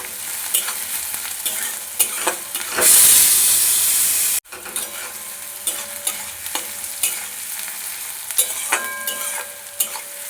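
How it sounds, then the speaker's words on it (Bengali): Onion with a pinch of salt fries in oil in a pan, a close crackling sizzle with frequent spatula scrapes, a brief burst of loud hissing steam partway, then abrupt cut and more stirring. "পেঁয়াজটা একটু ভেজে নেবো তারপরে আদা রসুনটা দিয়ে দেবো"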